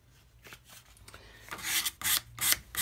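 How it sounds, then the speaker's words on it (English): Low-grit sandpaper rubbing over chalk-painted knobs: soft, uneven scratchy strokes that start quiet and grow louder and brisker, close by, with brief pauses between passes. "Because it's still sandpaper, even though it's a very low grit."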